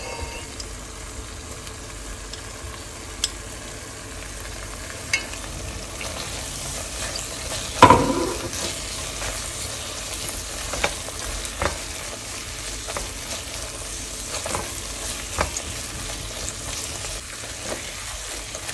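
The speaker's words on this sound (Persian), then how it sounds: "خوب همش میزنیم و بعد هویج رنده شده فلفل دلمه خورد شده بهش اضافه میکنیم." Vegetables, including grated carrot and chopped bell pepper, sizzle steadily in a hot pan for Gilani-style sour shami while a utensil scrapes and stirs now and then, with one louder clatter partway through.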